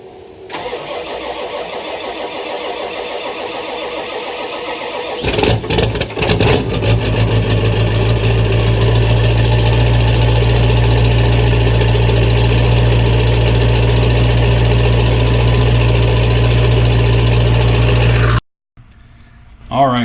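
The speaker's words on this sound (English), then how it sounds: "what you see here is the ever ubiquitous cold start of a diesel motor" A 7.3 Powerstroke diesel engine in a Bronco cold-starts: a few seconds of cranking catch into a loud, steady, rumbling idle that runs close and constant before cutting off abruptly near the end.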